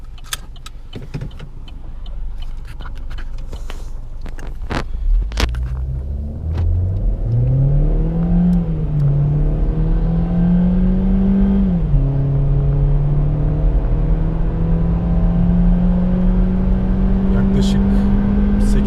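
A software-tuned 176 hp Opel Astra 1.4 turbo automatic accelerates hard from a standstill toward 100 km/h, its engine note climbing loudly inside the cabin, dipping once at a gear change and rising again, after some clicks and rustling.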